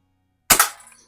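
A single sharp crack from an 1892 Markham King BB gun, close and crisp, with a quick double snap and a short fading rattle after near silence.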